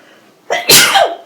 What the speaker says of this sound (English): hold on, I might have to sneeze. I feel a tickle in my nose